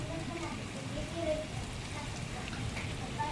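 Heavy rain falls steadily during a windstorm outside mud-walled village houses, a dense continuous wash of drops with no letup, with faint voices in the background.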